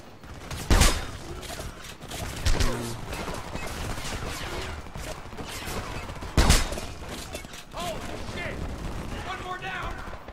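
Heavy gunfire in the first-person shooter Homefront: loud bursts and sharp single shots crack over continuous battle noise, with heavier blasts near the start and middle, and voices calling out amid the fight.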